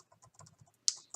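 A run of light keyboard clicks from typing a document heading in Google Docs, soft irregular taps close by, ending in a couple of sharper, louder key strikes.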